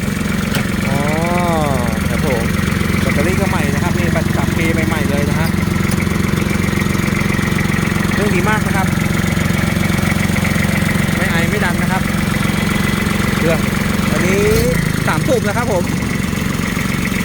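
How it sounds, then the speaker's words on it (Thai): Kubota 2410 tractor with a three-cylinder engine idling steadily, a continuous low mechanical drone running throughout while people speak intermittently nearby. "เครื่องสามสูบ นะครับ"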